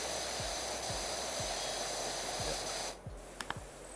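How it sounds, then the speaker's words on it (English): A steady, loud hiss of pressure washer spray in the PowerWash Simulator game runs for about three seconds, with faint rhythmic low thumps underneath, then cuts out. A couple of short sharp clicks follow. "I'm going to turn this spray sound down because now it's bothering me"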